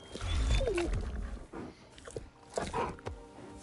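Giant wolf Fenrir in the video game God of War Ragnarok, heard as low growling, huffing animal sounds close up while being petted, with a brief pitched whine and a voice murmuring at points.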